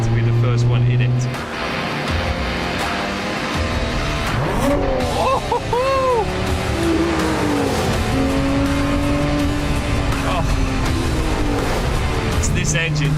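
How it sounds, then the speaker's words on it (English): A Lotus Emira First Edition sports car engine roars loudly and steadily throughout, with rising and falling revs, tyre noise and someone talking over it. "This engine just roars."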